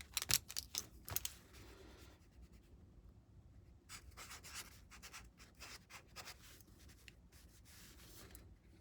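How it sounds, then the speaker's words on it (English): Marker or pen writing on a desert ghillie suit jacket, with scratchy strokes in short bursts near the start, then steady rubbing and scribbling close up through the rest. "I just wrote top on here"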